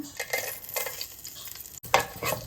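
Whole spices fry in ghee and oil in a pot, a close, steady sizzle with bursts of crackle and the scrape of a stirring spoon.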